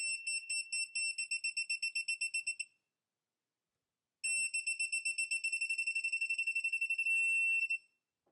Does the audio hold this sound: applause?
no